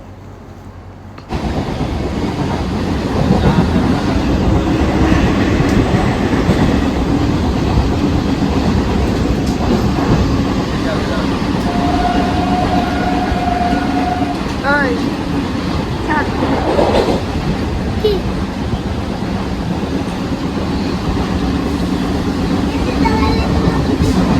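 A commuter train at Barrackpore station, heard from on board, gives a steady, loud rumble of wheels on rails that runs without a break, with faint clatter and squeaks over it.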